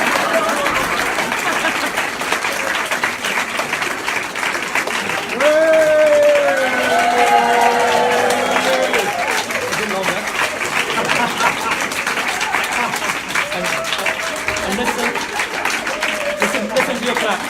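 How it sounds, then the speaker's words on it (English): An audience claps after a keynote address on integrated health, a continuous wash of applause that runs the whole length, with a voice talking over it midway. "Can you hear the clapping?"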